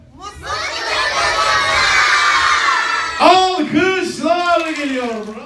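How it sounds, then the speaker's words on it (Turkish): A crowd of children at a children's entertainment show cheers and shouts loudly and continuously, then breaks into bursts of whoops and excited vocal cries. "Volkan abi ve Alkışlar geliyor! Bravo size!"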